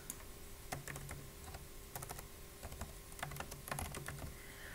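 Clicks and key presses on a computer while a test is being built in a learning platform, heard as scattered sharp taps in short bursts over a low steady hum, with no voices.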